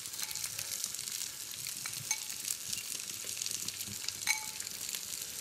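A grill pan heating for salmon and grilled vegetables gives off a low, steady sizzle with faint clinks now and then, quiet and close, with no voices.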